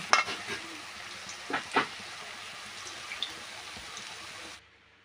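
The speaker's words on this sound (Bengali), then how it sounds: "এই বড়িগুলো কিছুক্ষণ নাড়াচাড়া দিয়ে ভাজা করে আমি তুলে নেব।" Milk chhana fritters being stirred and fried in hot oil give a steady close sizzle, with a few louder spoon scrapes and stirs near the start and around the middle before it cuts off.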